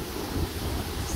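Sea waves break on a beach as a steady, broadband wash of surf, loud and close, with wind buffeting the microphone.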